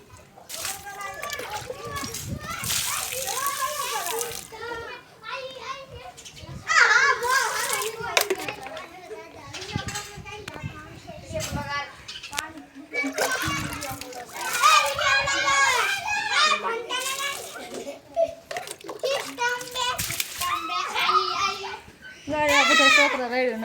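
Crowd of village children playing and shouting outdoors while water is poured and splashed around them, loud and continuous with overlapping voices and yells throughout.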